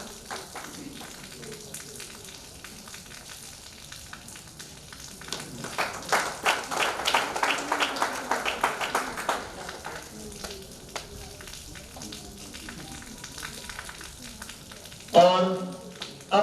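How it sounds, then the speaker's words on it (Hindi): An audience at a felicitation event at a sports complex in Jhalawar claps to welcome a guest, a burst of moderate applause swelling in the middle of the stretch over quiet room tone, with a short voice near the end. "जोरदार तालियों से स्वागत और अभिनंदन"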